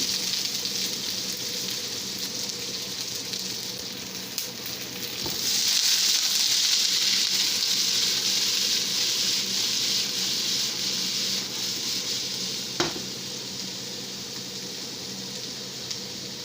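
Garlic, red onion and white onion sautéing in a hot pan, a continuous sizzling hiss that swells louder partway through, with a sharp clack from a utensil near the end and no talk.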